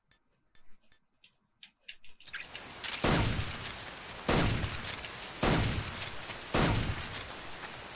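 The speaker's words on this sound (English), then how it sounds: "Flashbang grenade." A flashbang grenade in Metal Gear Solid 3 bursts as a loud, sharp blast after a few soft clicks, followed by a run of similar heavy bangs that keep recurring at steady intervals.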